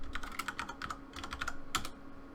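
Rapid keystrokes clatter on a computer keyboard as a short git command is typed out, close and crisp in quick bursts with brief pauses and no voices.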